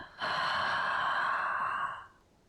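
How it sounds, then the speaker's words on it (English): A long, audible breath out during a relaxing yoga pose, one steady breathy exhale of about two seconds, close and clear with no talking. "Pause and hold for a deep breath in and an audible breath out."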